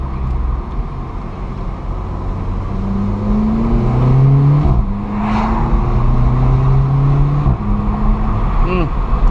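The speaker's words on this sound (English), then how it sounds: "Just listen to it. Downshift here, second gear." Volkswagen Polo GTI 6C engine downshifting into second gear, a revving engine with rising and falling pitch inside the car, a sharp exhaust pop or crackle near the end, with someone talking over it.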